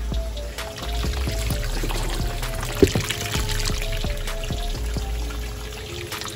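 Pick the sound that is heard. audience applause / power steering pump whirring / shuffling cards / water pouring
water pouring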